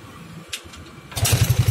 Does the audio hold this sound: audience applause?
no